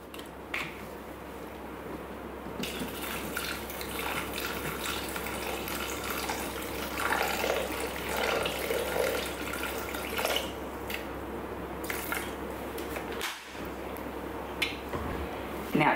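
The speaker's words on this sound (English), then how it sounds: "Okay, now we want 300 grams of water." Water pours steadily into a Thermomix for sticky date pudding, a continuous close splashing stream lasting many seconds with a short break near the end.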